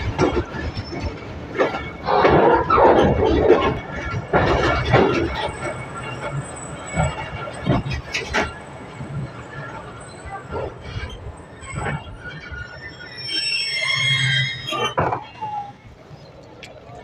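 Narowal passenger train rolling toward Kalakhtai railway station, with rhythmic clickety-clack, knocks and rattles, then a high wheel squeal near the end; loud and close throughout.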